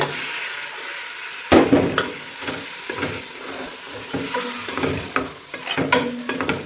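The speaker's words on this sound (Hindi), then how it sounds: "चिकन को डालने के बाद 1 मिनट के लिए हम इसको अच्छे से फ्राई करेंगे।" Boneless chicken cubes fry in a karahi with a steady sizzle, broken by a loud splattering burst as the meat goes in and then repeated scraping stirs. No voices are heard.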